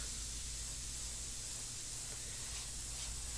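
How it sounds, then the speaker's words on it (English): An airbrush sprays India ink onto a portrait on paper, giving a steady, even hiss that runs unbroken and fairly quiet throughout, with no voices. "when I know I'm going to be spraying off the table, I just put a piece of scrap paper underneath"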